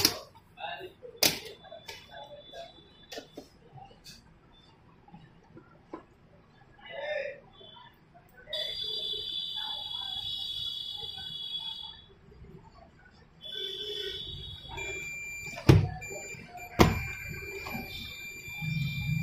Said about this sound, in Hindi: मल्टीमीटर ऐसे ही बीप देता रहेगा।